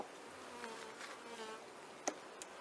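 Honeybees buzzing during an unsmoked hive inspection, a close, continuous steady drone with a couple of brief sharper clicks, no voices.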